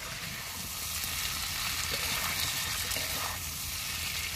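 Potatoes sizzling in a frying pan in a Sundarbans outdoor setting, a continuous dense hiss of frying with faint stirring underneath, steady and fairly loud.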